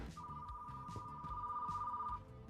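A phone rings in a video game with a steady electronic trill held for about two seconds, fairly faint, over a soft background of rhythmic game music.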